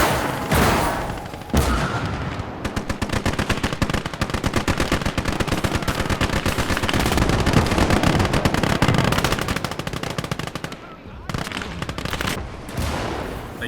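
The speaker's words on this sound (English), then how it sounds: "Cannon fire incoming!" Heavy, sustained battle gunfire during a Gates of Hell infantry fight, with rapid automatic bursts and booming cannon shots packed densely together, loud and continuous for most of the stretch and easing briefly near the end.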